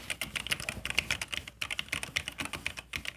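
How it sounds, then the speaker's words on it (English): Steady typing on an Apollo A6000 computer keyboard, close and fairly quiet, with rapid irregular keystrokes running throughout. "They want to hear the keys."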